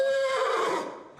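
A single horse lets out a loud, close whinny that starts high and clear, then breaks into a quavering, falling neigh and fades away within about a second.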